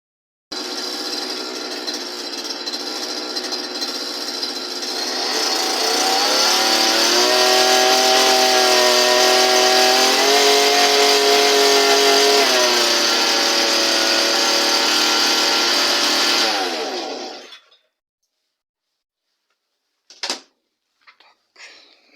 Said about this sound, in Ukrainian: мотор от тримера з редуктором